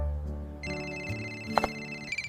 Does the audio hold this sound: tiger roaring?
no